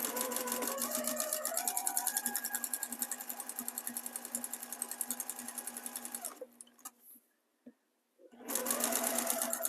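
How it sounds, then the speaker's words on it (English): A sewing machine runs steadily and loudly as it stitches quilt binding, with a rapid even whir that pauses briefly near the end before starting up again. "but I am machine stitching, and then we'll fold it over to the front"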